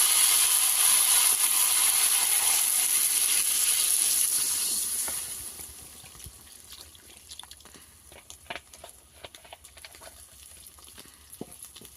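Water poured into a pan of frying vegetables hisses and sizzles loudly for about five seconds, then settles into a quieter bubbling simmer with scattered pops and ticks.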